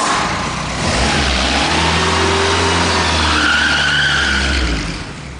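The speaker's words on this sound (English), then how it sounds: "He's off in that new car again" A Volkswagen MK1 Golf GTI pulls away with a revving engine and tire noise, loud and close, the engine note rising then fading slightly at the end.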